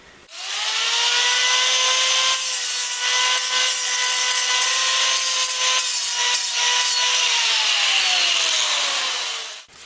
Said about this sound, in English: So I'm going to grind these flat so I can put the ball cage from this one in here